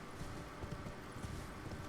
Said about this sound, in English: Get on my horse.